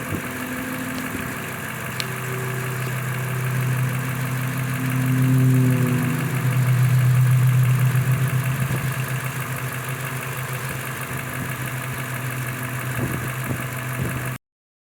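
A car engine idles steadily with its ignition coil firing, a continuous low, even rumble that swells slightly midway and then settles, with no talking.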